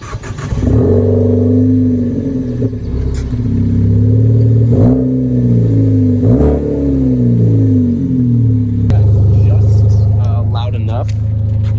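A tuned car exhaust revs and drones loudly up close, rising and falling in pitch, with brief crackling burbles between throttle changes.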